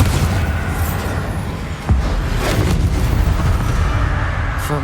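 Bombarda spell blast in Hogwarts Legacy, a sharp low boom around two seconds in rising from a dense, rumbling bed of continuous game combat noise and effects.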